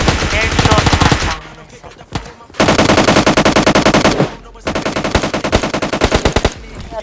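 Rapid automatic gunfire in PUBG Lite, loud and close, coming in dense bursts with brief pauses between them.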